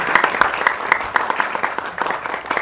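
An audience applauds for film director Padmaraj Nair at a trailer launch event, a crowd clapping steadily with distinct individual claps popping out near the front, moderately loud and unbroken.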